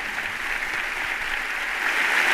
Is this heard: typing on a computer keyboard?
no